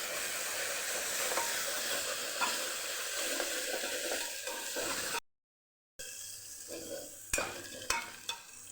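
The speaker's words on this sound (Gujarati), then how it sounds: "આદુ મરચાંની પેસ્ટ ઉમેરી દઈશું એને સરસ આપણે સાતળી દઈશું" Ginger-chilli paste and onions sauté in a hot pan for a Maggi masala khichdi, a steady close sizzle with stirring scrapes, broken by a brief silent gap before louder spoon clinks and sizzling resume.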